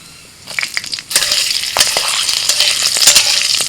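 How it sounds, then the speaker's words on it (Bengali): Dried red chillies and black cumin hit hot mustard oil in a kadai with a loud sudden crackle, then keep spitting and popping in a dense, close, continuous sizzle. "কড়াই সর্ষের তেল দিয়ে দিচ্ছি তেলের মধ্যে শুকনো লঙ্কা দিচ্ছি কালো জিরে চারটে কাঁচা লঙ্কা"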